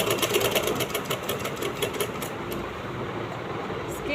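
Sewing machine stitching a kameez, running in a rapid, continuous mechanical chatter with fine repetitive clicks, fairly close and steady over a few seconds.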